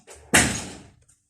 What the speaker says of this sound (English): Close the door, AC on.